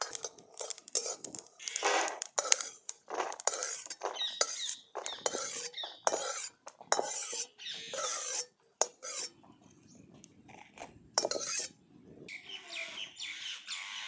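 Peanuts and sesame seeds dry-roast in a pan while being stirred, a close, gritty scraping and rattling in quick bursts with brief pauses between.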